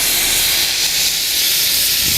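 A steam cleaner running at 250 bar during car detailing in a garage gives a loud, steady, continuous hiss that fills the whole stretch without a break, and no one speaks.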